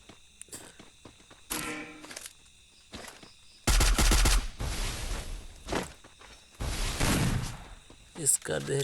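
SCAR rifle fire in a battle royale game comes in sharp bursts, loud rattling volleys spaced out among quieter footsteps and movement sounds, with a voice talking at times.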